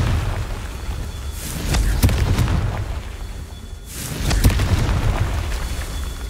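Confringo explosion spells in the video game Hogwarts Legacy erupt as two heavy, rumbling blasts a couple of seconds apart, each swelling into a loud boom with crackling debris over a low background rumble.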